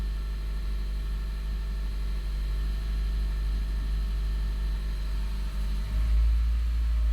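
A Honda Jade or Toyota C-HR engine idling steadily during a throttle relearn after the throttle was reset, with a misfire fault; a continuous low hum that rises slightly in speed near the end, heard close and alone.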